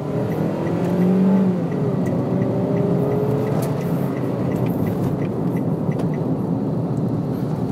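Toyota Calya G 2019 with a 1200 cc engine and 4-speed automatic accelerating hard to overtake, a steady rising engine drone with road and wind noise, loud from inside the cabin throughout.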